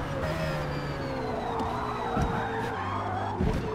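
A race car in a racing video game brakes late with worn tires, its tires skidding and squealing in a long, sliding screech over a steady engine whine, loud and continuous throughout.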